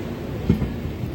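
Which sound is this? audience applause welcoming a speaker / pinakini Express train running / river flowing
pinakini Express train running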